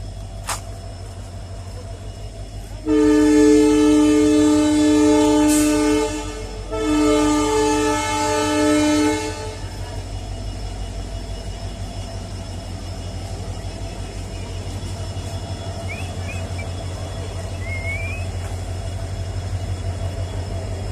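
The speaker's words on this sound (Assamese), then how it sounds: "তাৰপৰ আৰ এখন ট্ৰেন আহিলে" A loud, sustained train horn blasts twice, a long tone then a shorter one, over the steady low rumble of a train rolling into Nijsarihaa railway station.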